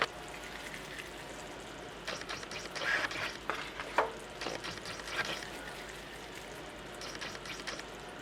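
Meatballs tumble into a pan of melted jelly sauce for cocktail meatballs, giving soft sizzling and stirring with a few brief clattering bursts, fairly quiet and close, with no talking.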